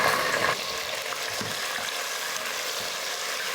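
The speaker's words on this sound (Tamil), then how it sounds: "இப்போ தக்காளி நல்லா வதங்கட்டும்." Onion and tomato sauté in a pan for soya biryani, giving a continuous close-up sizzle with a louder sputter at the start and soft stirring knocks underneath.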